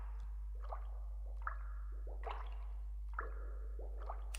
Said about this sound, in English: Nice water sounds.